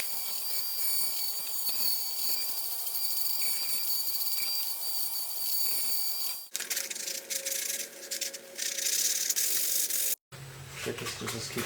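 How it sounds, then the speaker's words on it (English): Sandpaper scrubbing over a repaired cracked steering wheel, with repeated short rubbing strokes that turn into a denser, steadier scratching after a brief pause, close and fairly loud. "just keep sanding it until it's all smooth in together"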